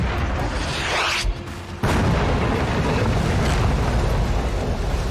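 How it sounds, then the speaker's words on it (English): Cannon on a nearby building firing in the game Dying Light 2, a heavy booming blast that cuts in amid dense, loud game noise. "They put a cannon on a nearby building."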